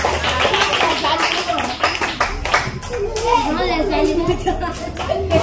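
Children at a church service clap together in quick, uneven bursts mixed with cheering and excited voices, loud and close throughout.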